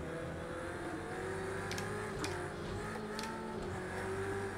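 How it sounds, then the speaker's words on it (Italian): A Ferrari engine revs in the racing game Project Cars 2, a steady loud drone with rising and falling pitch and brief brighter bursts as the throttle changes, heard alone with no talk. "Questa Ferrari canta davvero, ragazzi, mamma mia."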